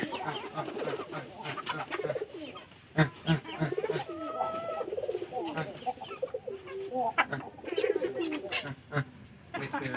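Soft pigeon coos repeat in the background, mixed with other bird calls and some nearby talking.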